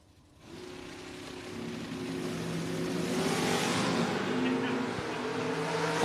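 Drag race cars, a stretched Camaro and the Withrow Mustang, roar at a drag strip with a sustained engine drone that swells and grows louder over several seconds, with commentary voices over it.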